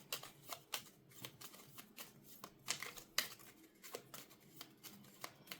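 Paper cash envelopes holding two 50s are shuffled by hand with prop coins nearby, a quick run of crisp, close riffling flicks and soft rustles in uneven bursts, with no voices.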